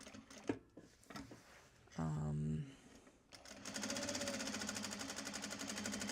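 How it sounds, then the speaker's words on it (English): A sewing machine stitches a welt pocket on a Japanese fabric bag, running steadily and fairly loud through the second half after a brief, different mechanical burst, with some talk earlier. "We are stitching the pocket for the back here."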